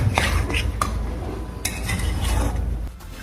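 Lemon smoky chicken with lemon juice and chopped coriander is stirred in a pan, with soft scraping and a couple of light metallic clinks over a steady background hum.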